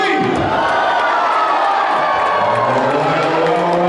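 A wrestling show audience at Opportunity Village cheers and shouts loudly and continuously on a count, a dense wash of whoops and yells from a large crowd close by.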